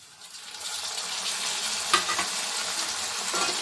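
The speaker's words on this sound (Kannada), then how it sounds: "ಫಸ್ಟೇ ಬೇಯೋದು ಅಂದರೆ ಎಣ್ಣೆನಲ್ಲೇ ಫ್ರೈ ಆಗಬೇಕು" Onion, tomato, fresh peas, beans and carrot fry in oil for a vegetable rava upma, sizzling steadily up close while a utensil clinks once against the pan partway through.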